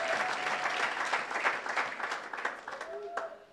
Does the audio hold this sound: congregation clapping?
yes